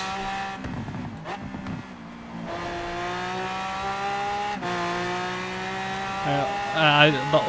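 Lamborghini Aventador engine and exhaust in Forza Horizon 4, revving up and down in rising and falling tonal sweeps with sharp shifts and a brief squeal near the end, loud and close.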